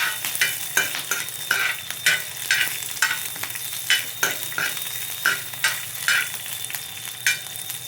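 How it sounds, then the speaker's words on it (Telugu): Curry leaves and dried chillies sizzle steadily in hot oil for a tempering, with a spoon scraping and stirring the pan in regular strokes. The stirring is close, loud and rhythmic, and nobody speaks. "ఇక్కడ కరివేపాకు మంచిగా వేగాలి"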